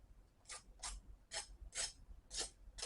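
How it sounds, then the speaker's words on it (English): Five or six short, faint crunching scrapes in an uneven rhythm of a crispy deep-fried chimichanga being pressed or broken, with no talking. "Hear that? That is nice and crispy."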